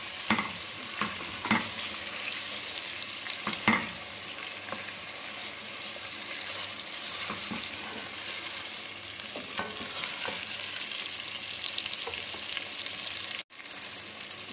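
Goat trotters frying in masala while being stirred: a continuous, fairly loud sizzle runs throughout, broken by repeated scraping and knocking of the spoon against the pot, with no voices.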